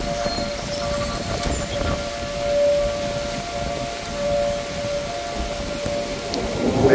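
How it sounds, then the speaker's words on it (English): A storm warning siren wails outdoors at a steady, fairly distant pitch, holding a long tone with slow swells over a background wash of wind or light rain. "What's this siren noise I hear?"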